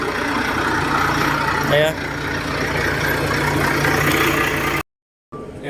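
Engine idling steadily after an injector replacement, still blowing white exhaust smoke, a constant mid-low rumble close by with a brief voice over it before a short dropout.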